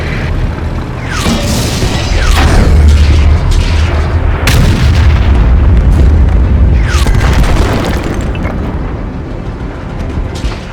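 Artillery explosions in a tank cartoon: a dense, sustained barrage of loud booms and blasts, with sharp bursts and whistling shells streaking over a constant rumbling roar, continuous throughout.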